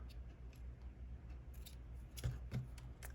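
A few quiet snips of scissors trimming a little off the top of paper ephemera for junk journal embellishments, two distinct cuts close together over a low background hiss.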